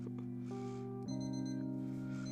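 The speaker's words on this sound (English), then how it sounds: "That alarm clock." Electronic alarm clock ringing with steady sustained tones that shift pitch partway through, loud and continuous with no voices.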